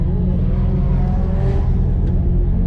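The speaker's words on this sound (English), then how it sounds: "That is drifting at Nikko Circuit." A Toyota JZX100 Mark II drifting at Nikko Circuit gives a loud, steady engine drone with a rough low rumble, heard close and sustained through the whole stretch.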